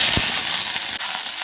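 Onions hit a hot pan beside soaked salted fish, giving a loud, steady hiss and sizzle close up that runs without break for the short stretch.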